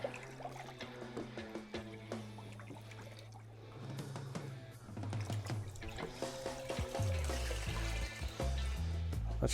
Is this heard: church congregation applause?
no